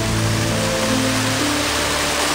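Cachoeira do Sal, a waterfall at Estância Mimosa in Bonito, Mato Grosso do Sul, Brazil, roars in a steady, loud broadband rush of falling water close by, with no talk over it.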